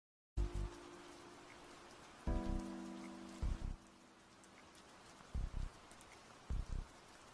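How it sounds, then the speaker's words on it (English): Rain falls with a broad, steady patter and hiss, and brief tonal swells and several heavy knocking thuds break through it at intervals. "I think it's gonna rain again."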